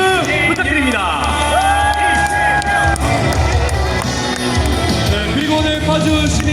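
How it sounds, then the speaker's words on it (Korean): A large crowd at an outdoor election rally in Paju, South Korea, claps and cheers loudly and continuously, with shouts and whoops mixed into the roar. "파주 시민 여러분, 큰 박수 부탁드립니다."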